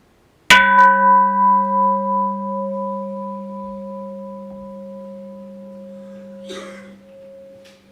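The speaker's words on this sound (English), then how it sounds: "I'll strike the bell again to end this very brief period of mindfulness together." A single strike on a meditation bell at a dharma family service, a clear bright onset followed by a long, slowly fading ring with a gentle wavering pulse, heard close and alone.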